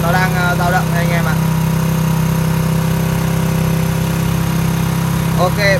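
A small engine runs steadily during a battery charging test, a loud, even idling drone with a constant low hum throughout, while someone talks over it at the start and end.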